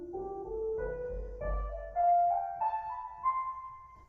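A Behringer Deepmind synthesizer string patch, run through Ableton's stock reverb, plays a soft, slow melody of gliding sustained notes that rise gradually, faint and alone with a lingering reverberant tail.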